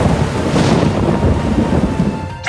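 A thunderstorm effect from the Manamon 2 video game: a loud, continuous rumble of thunder with rain noise lasting the whole clip, cutting off at the end. No one speaks.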